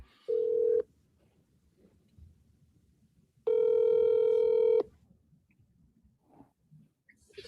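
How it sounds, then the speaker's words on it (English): A telephone dialing a call gives two steady electronic tones: a short beep, then a longer ringback tone lasting over a second, separated by quiet handling noise and faint background sounds. "here he's gonna call his wife"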